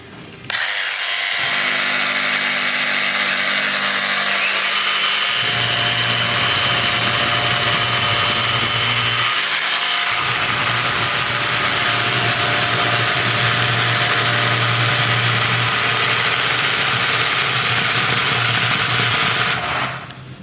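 DeWalt and Milwaukee jigsaws running with no cutting, one starting after the other, then both whining together in a steady, loud, continuous buzz with a low hum and a brief dip near the midpoint.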